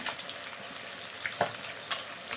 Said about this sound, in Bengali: একটা একটা করে এখন আমি সব ভেজে নেব।